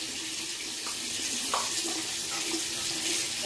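Water runs steadily from a tap into a sink, a constant close hiss lasting the whole stretch while someone waits for it to warm, with no talking.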